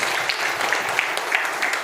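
An audience at an RCM seminar claps in a dense, even burst of applause that holds steady for a couple of seconds with no voices over it.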